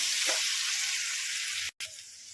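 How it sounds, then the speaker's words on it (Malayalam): Ginger and garlic frying in hot oil for egg biryani give a close, steady sizzling hiss that cuts out for a moment near the end, then resumes. "ഇഞ്ചിയും വെളുത്തുള്ളിയും ചെറുതായിട്ടൊന്ന് മൂത്തിട്ടുണ്ട്."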